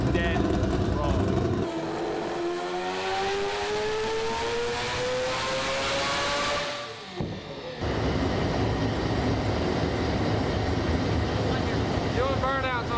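A turbocharged four-rotor Mazda RX-7 revs hard during burnouts on a dyno, its loud rising engine scream climbing in pitch, cutting out briefly, then roaring back with dense, raspy exhaust noise.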